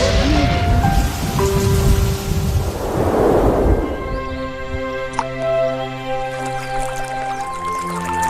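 Rain falls in an Upin Ipin animated episode, a loud steady hiss for the first few seconds that fades into a softer patter, with a deep rumble swelling briefly in the middle.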